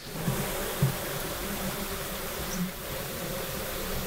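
Bees swarm around an opened wild hive in the bush, its comb holding brood low and honey higher up. Their steady, dense buzzing fills the air close by, with a few louder passes as single bees fly near.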